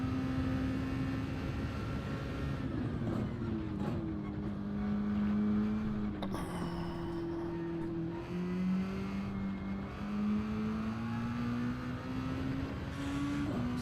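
A heavy race car in Gran Turismo, its engine droning steadily at high revs with shifting pitch as it climbs and eases through gears during a race, loud and continuous throughout.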